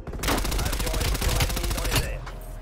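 Rapid automatic gunfire rattles in a fast, dense burst in the video game Call of Duty: Black Ops Cold War, loud and close, followed by a brief trailing shot.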